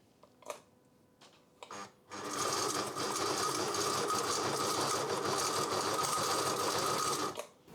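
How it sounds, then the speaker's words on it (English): A Hobbylock 776 overlocker with a worn motor sews in one continuous whirring, rattling run of about five seconds, close, preceded by a few handling clicks and kept low in volume. "I turned the volume down immensely to do that bit of sewing on the machine"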